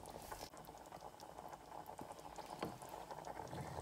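Water boiling and simmering in a pot of Indian curry, a dense close bubbling and popping patter that continues steadily throughout with no talk.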